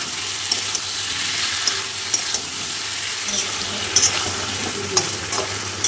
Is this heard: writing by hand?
no